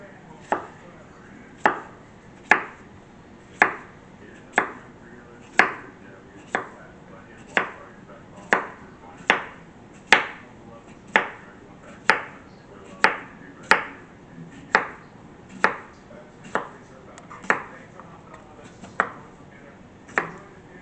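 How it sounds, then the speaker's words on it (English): A knife cuts a cucumber into quarter-inch slices on a cutting board. About twenty crisp, evenly spaced chops land roughly once a second, close and distinct against a quiet background. "Then we'll cut the cucumber."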